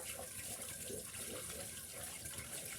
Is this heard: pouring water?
yes